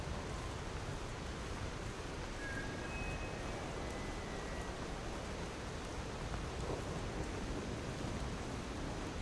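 Steady rain in the video game Lies of P, a constant soft hiss of falling water filling the background without a break.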